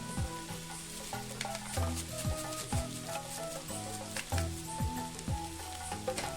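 Egg fried rice stir-fried in a pan with fried-rice spice powder, giving a steady, close sizzle broken by repeated scraping stirs of the spatula, with a faint tonal background underneath.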